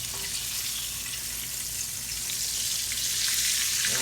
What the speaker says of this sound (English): these don't take long to fry because they're so thin